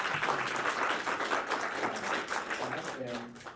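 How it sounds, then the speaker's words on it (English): Audience applause for a helper at an NSF workshop session, a steady wash of clapping lasting several seconds and tapering toward the end, with faint voices underneath. "let's give him a round of applause"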